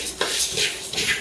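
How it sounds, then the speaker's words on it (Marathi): Coriander seeds dry-roasting in a pan for a spice mix, with a steady scraping stir and light rustle of seeds against metal, close and fairly loud for about a second. "मसाला करण्यासाठी मम्मी आता धने भाजत आहे."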